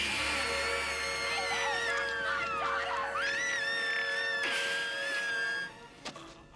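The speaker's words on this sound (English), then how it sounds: "And that scream is one take." A child actor on a movie set lets out a long, wavering, high-pitched scream that rises and falls for several seconds, then cuts off, with faint background noise.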